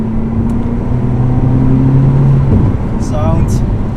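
Alfa Romeo Brera fitted with a new exhaust and Wizard center muffler, revving with a steady mid-pitched engine drone that climbs then drops off, close and loud, with a few brief chirps near the end.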